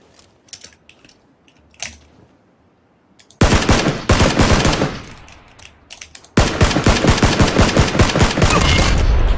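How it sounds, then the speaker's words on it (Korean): Gunfire in the video game PUBG (Battlegrounds): a few scattered clicks, then long, loud bursts of rapid automatic fire that break off briefly and resume, close and relentless. "지금 그쪽에서 쏘고 있어요"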